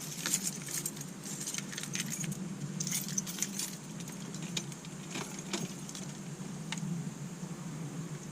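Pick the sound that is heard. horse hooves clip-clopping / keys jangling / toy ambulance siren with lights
keys jangling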